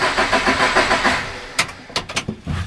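Scion FR-S engine cranking over during a restart attempt after fluid changes, a steady churning starter rhythm for about a second and a half, then broken off into a few short bursts, loud and close with no talk.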